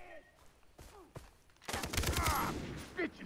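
Gunfire in the video game Far Cry 3: quiet scattered shots at first, then a dense burst of rapid fire in the second half, with faint voices and game sounds underneath.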